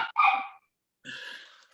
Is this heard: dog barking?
yes